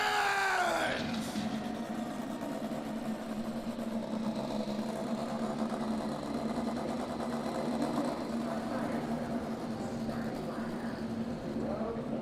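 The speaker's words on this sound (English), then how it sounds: "Drivers, start your engines!" INDY NXT race car engines firing up and idling together at Iowa Speedway: a steady, loud, massed engine drone that holds through the whole stretch, with crowd noise and faint voices mixed underneath.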